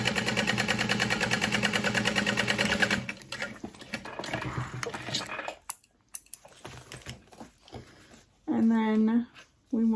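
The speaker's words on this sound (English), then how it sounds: "I'm gonna sew along the top edge." A sewing machine stitches along the top edge of a fabric Gallivanter wallet in a fast, steady mechanical whir for about three seconds, followed by handling and shuffling noises and a brief voice near the end.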